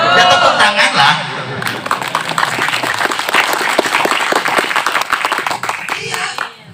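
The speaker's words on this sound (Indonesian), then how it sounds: "Ya tepuk tangan lah" Audience at a religious sermon in an Islamic boarding school hall bursts into loud, sustained applause, a dense wash of many hands clapping that holds for several seconds with voices mixed in before fading.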